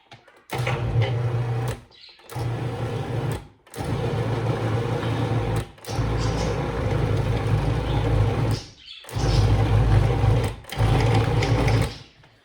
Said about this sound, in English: And when you use a food processor, it really doesn't take hardly any time.